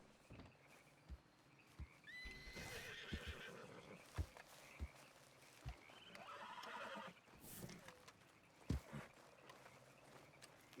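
A horse whinnies with high, wavering calls in the RedM roleplay video game, while scattered hoofbeats thud at uneven intervals, fairly faint overall and with no talking.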